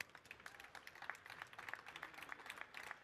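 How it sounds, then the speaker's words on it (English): Faint, scattered applause for two racers in Gran Turismo 6, thin quick claps rising and falling throughout at a distance. "give them a round of applause"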